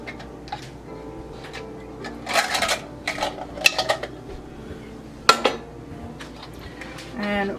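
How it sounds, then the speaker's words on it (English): Metal canning lids clink and tap against glass jars in a home kitchen while tomato soup is prepared for water bath canning, a few sharp metallic clicks in short bursts, near and moderately loud. "we're just going to center the lids onto the jars"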